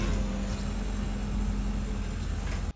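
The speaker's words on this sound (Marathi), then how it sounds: "हे गहू काढायचं मशीन आहे, चाललंय कोणाच तरी इथं गहू काढायला आता." A wheat threshing machine runs in a village field, giving a loud, continuous mechanical drone with a steady low hum that cuts off abruptly at the end.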